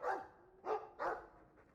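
A dog barks three times in the game Dragon Age 2, short sharp yelps at moderate distance with no talk over them.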